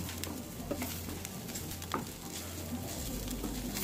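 Curry leaves roast in a pan over a medium flame, giving a faint, steady crackle and sizzle with a few soft taps and stirring scrapes. No one speaks.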